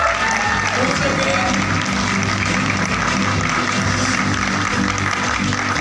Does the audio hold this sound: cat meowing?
no